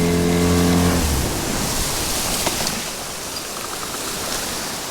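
Fishing boat motoring back in through the surf, a low engine hum fading within the first second into loud broadband wash of waves and wind with a few faint knocks.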